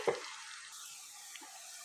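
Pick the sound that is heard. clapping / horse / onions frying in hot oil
onions frying in hot oil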